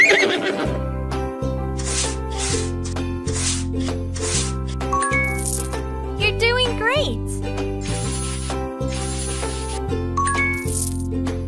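In a pony care video game, a cartoon horse neighs amid bright coin-collecting chimes, jingles and playful music, with a child-like voice speaking over the game sounds.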